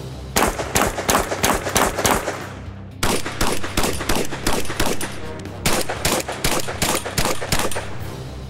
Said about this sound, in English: let's go have a little fun here and shoot some plates down.